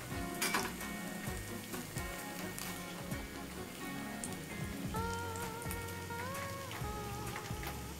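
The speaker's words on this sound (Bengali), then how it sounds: "এইভাবে সবকটা আমি ভেজে নেবো" Potato egg noodle fingers fry in hot oil, giving a steady dense sizzle and crackle with occasional louder pops throughout.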